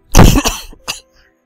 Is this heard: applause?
no